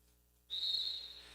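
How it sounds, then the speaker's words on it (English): Referee whistle at a roller derby bout, a single sharp sustained blast starting abruptly after near silence and holding for about a second, fairly near and clear over faint arena background. "And the whistle blows."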